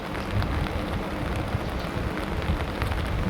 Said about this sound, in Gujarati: વરસાદ આજે સવારનો ચાલુ છે